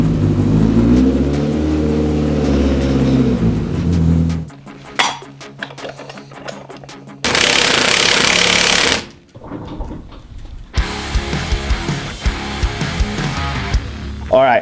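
A Polaris RZR Pro R UTV drives into a shop, its engine revving loud and close with rising and falling pitch. Abrupt cuts follow, along with clanks and metallic clinks from the work area.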